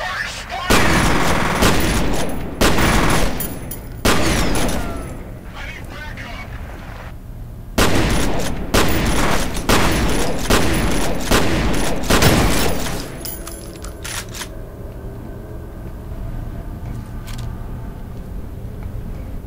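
Rapid bursts of loud gunfire in several volleys in the video game F.E.A.R., then the shooting stops and quieter background noise remains.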